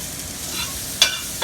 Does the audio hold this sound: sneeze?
no